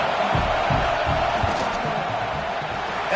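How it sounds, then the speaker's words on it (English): Football stadium crowd roaring ahead of a fourth-down field goal attempt, a loud, continuous wall of noise with scattered shouts throughout. "This crowd trying to do its part to get inside the kicker's head."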